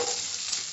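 Chopped garlic frying in oil for Hakka noodles, a brief, steady, close sizzle with no voices.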